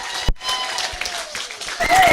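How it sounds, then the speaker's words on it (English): Audience applause at a live mediumship demonstration for medium Jacqueline Hill, a dense wash of clapping that rises to fill the room, with voices mixed in underneath. "Jacqueline Hill, everybody, give her a round of applause"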